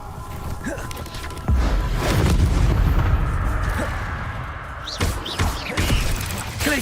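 Bombarda explosion spells go off in the Hogwarts Legacy video game, a heavy booming burst followed by rumbling debris and a few more sharp thumps, loud and close.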